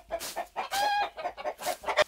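Farm chickens clucking close by in a quick, uneven series of short calls, a few sharper squawks standing out among them, with no talk.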